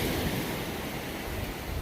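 Surf rolling onto Worthing Beach makes a steady, loud, close wash of noise that holds an even level for the whole stretch, with no voices over it.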